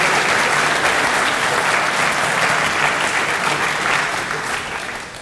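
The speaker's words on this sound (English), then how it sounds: "Give those students a round of applause." A crowd applauds students with sustained, loud, even clapping that fades slightly toward the end.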